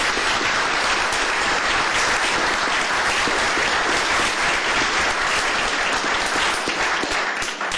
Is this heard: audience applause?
yes